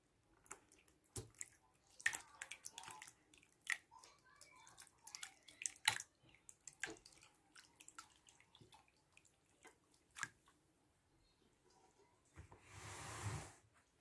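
Whey drips from labneh draining in a cloth into a bowl, a faint scattering of irregular soft drips and small splashes in a quiet room, ending in a brief louder rustle.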